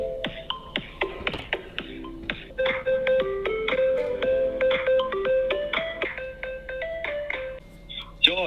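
Melodic electronic tones play on a customer support phone line while the caller waits on hold, a steady sequence of short pitched notes at moderate level with no talking.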